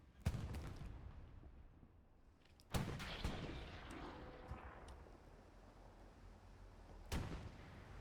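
Tank cannon fire in a World War II video game, a Puma armored car's shell glancing off a Sherman; sharp booming shots crack out at the start, around three seconds and near seven seconds, with rumbling decay between.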